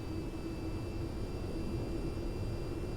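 A jet engine in the VTOL VR flight game, throttled back below afterburner, produces a steady, even roar with a broadband rush and faint high tonal whine, unbroken and continuous with no talk.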